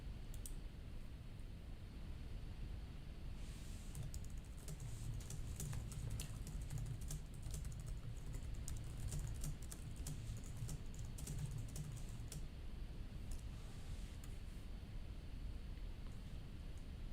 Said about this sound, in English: I'm going to try to do a little bit more typing.